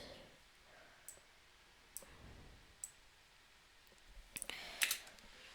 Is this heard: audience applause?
no